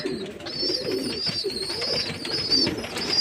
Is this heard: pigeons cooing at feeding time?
yes